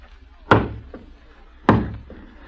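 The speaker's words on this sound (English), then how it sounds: "Someone at the door. Open it." Two separate heavy knocks on a door in a radio drama, each a sharp close thud with a faint echo after it, spaced a little over a second apart.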